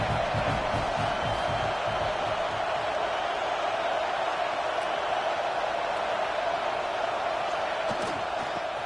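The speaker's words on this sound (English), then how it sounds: "This crowd bringing the energy and noise early." Stadium crowd at a college football game, Buffalo against the Gators, a steady broad roar filling the whole stretch, loud and continuous without breaks.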